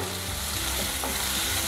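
Onions and potatoes fry in a pan for a vegetable curry with a steady, dense sizzle that fills the whole moment. The hiss stays close and even, without breaks and with no talking.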